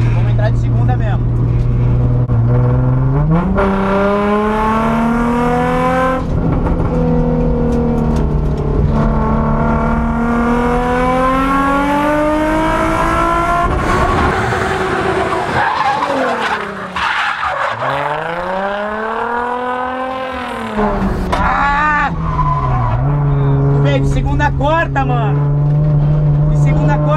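A drift car screams through a long run in second gear, its engine revving and swooping up and down as the tires skid and squeal loudly, with voices talking over it.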